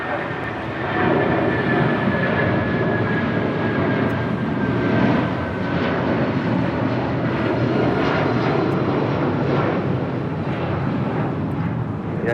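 A Philippine Airlines heavy jet takes off from runway 25 right at Los Angeles International Airport, its engines a steady, loud roar with wind buffeting the microphone.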